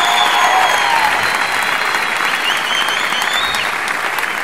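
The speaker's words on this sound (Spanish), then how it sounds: "Un aplauso para el señor Brian Rula aquí" Audience applause at a stand-up comedy show in Santa Fe, dense sustained clapping with a few whistles, loud and steady throughout.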